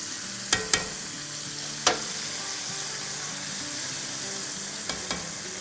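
A Zinger burger chicken piece fries in hot oil with a steady, close sizzle and bubbling, broken by a few sharp clinks and taps of a utensil against the pan.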